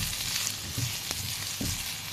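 Garlic sautéing in a hot pan as the base for Filipino chicken tinola, a steady close sizzle and fry with a few soft stirring clinks, no voices.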